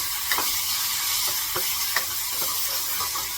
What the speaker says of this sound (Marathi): एक चमचाभर तेलामध्ये कांद्याचं थोडंसं परतून घेते